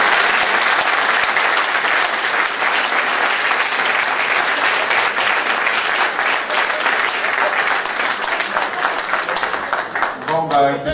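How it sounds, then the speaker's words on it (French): Gala audience gives a long, loud, steady round of applause, dense clapping filling the room without pause, tapering slightly near the end as a voice begins. "on les applaudisse très fort"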